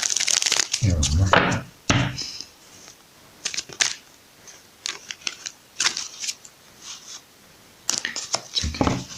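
Close, papery riffling and slapping of tarot cards being shuffled in several bursts, with brief pauses between and no speech over it.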